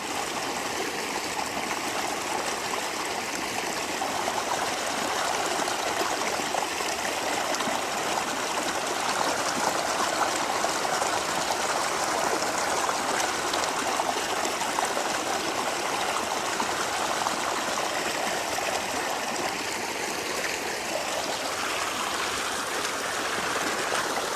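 A stream flows steadily and continuously, a full rushing wash of water with no voices, close by and unchanging throughout.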